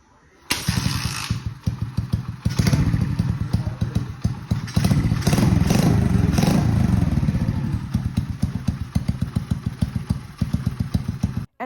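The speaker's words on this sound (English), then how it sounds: "this thing actually does start up, first kick every single time, and it runs pretty good" An 86cc air-cooled four-stroke engine on a Chinese chopper motorcycle runs steadily and loudly, a fast clattering thump that holds for about eleven seconds with no talk over it.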